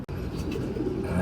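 Racing pigeons at a loft ahead of a derby race, with soft low cooing and a few faint chirps over steady close ambient noise, no talking.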